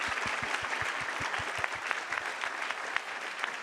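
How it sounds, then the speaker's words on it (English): Conference audience applauding panel speakers after a monetary system discussion, a dense, even round of clapping with a few louder claps standing out, heard alone without talk. "join me in a big round of applause for our speakers"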